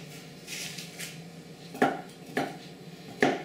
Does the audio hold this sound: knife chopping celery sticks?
yes